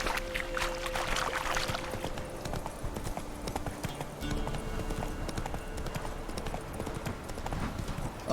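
A horse's hooves pound in a steady, rhythmic clip-clop during a gallop in The Witcher 3, with soft tonal background sounds from the game underneath. The hoofbeats are close and continuous, and no one speaks.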